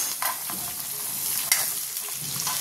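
Onions hitting a hot pan and sautéing for a ginisang patola, an immediate loud sizzle with stirring scrapes and one sharp clack of a spoon, close up and continuous with no voices.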